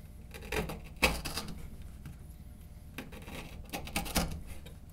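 A Buck 110 knife slicing through material in several sharp, bursty strokes, each a crisp close cutting rasp separated by brief pauses, with no talking.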